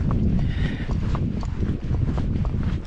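Hooves of a Rocky Mountain Horse gaiting smoothly under a rider, a quick, even clip-clop rhythm of close footfalls repeating steadily without pause.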